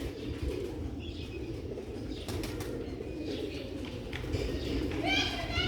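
Chuha Motiyan pigeons coo softly amid a steady outdoor hum, with occasional wing flutters and distant bird chirps, while voices talk faintly in the background.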